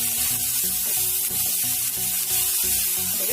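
Onions sizzle steadily in a pan on a lowered flame while being cooked soft for onion paratha filling, a continuous close, loud frying hiss with faint rhythmic scraping underneath.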